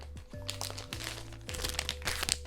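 Plastic refill packaging of a Japanese beauty product from Daiso crinkles and crunches as it is cut open with scissors, a close, busy run of rustling and snipping over a steady background hum.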